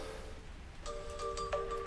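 A phone rings faintly in a garden setting during a Hayter lawnmower repair, a few short electronic tone bursts starting partway in over low background noise.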